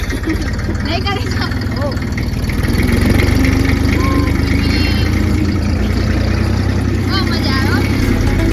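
A tractor engine chugs steadily at close range, a low rhythmic rumble that grows slightly louder partway through, with people talking over it.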